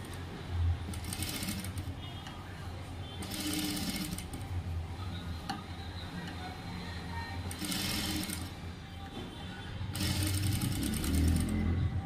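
A sewing machine double-stitches the front of a prince cut blouse in four separate quick bursts of rapid whirring, with quiet pauses between runs.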